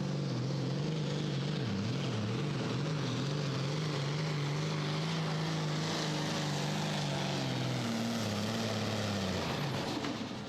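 The John Deere pulling tractor Fat Bottom Girl roars under load at a tractor pull, a loud sustained engine drone wavering in pitch then dropping as the motor bogs down near the end.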